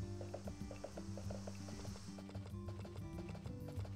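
Horse hooves in a video game clip-clop in a quick, steady trotting rhythm close by, running continuously over a constant low musical backing.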